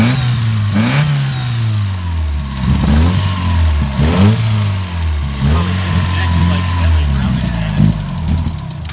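A Mazda Miata engine, stripped down for weight reduction, catches and revs up and down repeatedly, loud and close, with voices talking faintly around it.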